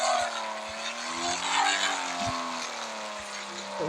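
A car with an upgraded exhaust in the driving game Custom Cars Online drones along with a rising and falling engine pitch, a few soft knocks and shifts punctuating the steady, close engine tone.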